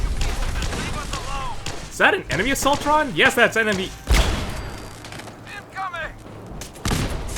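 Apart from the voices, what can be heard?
gunfire in a video game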